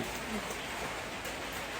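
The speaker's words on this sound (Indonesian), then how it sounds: "Kita pakai terpal ini karena hari hujan." Rain falls steadily outdoors near Mount Merapi in Yogyakarta, a dense, even hiss of drops spread across the whole moment, fairly loud and without distinct breaks.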